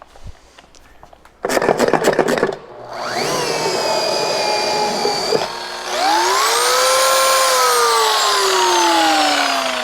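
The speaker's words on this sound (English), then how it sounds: "I always start with a clean, damp pad, so off to the pad washer" A pad washer runs on a clean, damp polishing pad for a rotary polisher: a sharp burst of rapid whirring and slapping, then a loud, steady motor whine that rises and holds near the microphone, with no talking.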